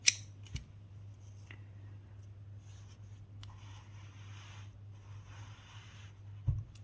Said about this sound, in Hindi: चेन 1 करके धागा हम कट कर देंगे